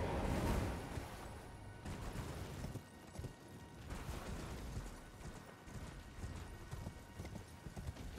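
Horse hooves gallop in Elden Ring, a rapid, continuous clip-clop rhythm of muffled thuds that fades slightly in places, heard alone without talk at moderate volume.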